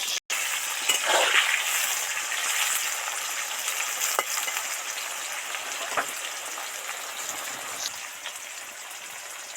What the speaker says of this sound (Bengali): ঢেঁড়সটা তেলের মধ্যে দিয়ে দিলাম